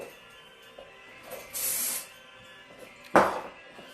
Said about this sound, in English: So I'm just going in there and I'm just really spraying it through